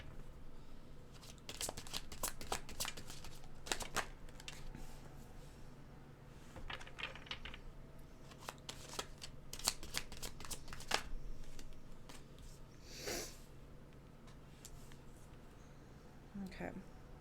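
Tarot cards shuffled for a five-card love spread, a steady stream of close, crisp riffles and slides with a few sharper snaps, running alone over a low room hum throughout.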